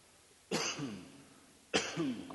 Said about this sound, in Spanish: les dije que iba a toser